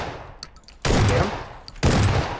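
Gunfire in the battle-royale game PUBG: two loud, close bursts of shots, the first starting just before the one-second mark and the second near the end, with quieter pops between them.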